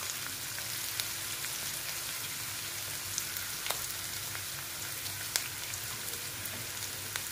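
Chopped ginger and capsicum frying in a pan, a steady soft sizzle with faint crackles and occasional pops, close and alone with no talk.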